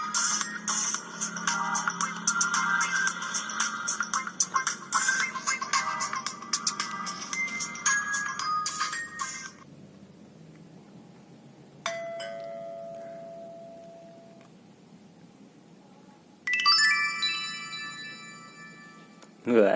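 Classic polyphonic ringtones from an old Nokia 2600 classic mobile phone: a busy, bright melodic tune plays, then pauses, followed by short separate tone snippets and another jingling melody starting near the end.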